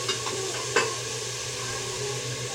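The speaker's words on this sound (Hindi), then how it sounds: "हर वक्त ख्याल रखिए कि जले नहीं और लगे नहीं, और इसको हिलाते जाइए।" Vegetable pickle with radish being stirred in a hot pan, giving a steady low sizzle with a couple of soft scraping knocks near the start.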